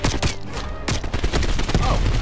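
Rapid bursts of grenade launcher fire and explosions in the Cold War shooter Call of Duty Black Ops Cold War, dense and loud with repeated sharp blasts over a continuous rumbling battle backdrop.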